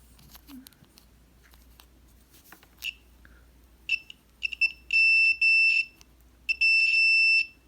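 A continuity tester checks a moped's electrical circuit, giving several short, high, piercing beeps that grow into longer sustained tones toward the end, preceded by faint clicks of probes touching contacts.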